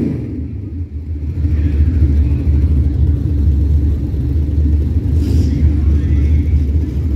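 Race cars thunder around Blackhills Raceway, a loud, steady low engine rumble from a pack of cars close by, with one pass rising briefly near the end, under occasional announcer talk.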